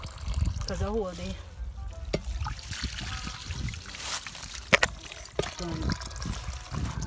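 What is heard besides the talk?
running water for washing hands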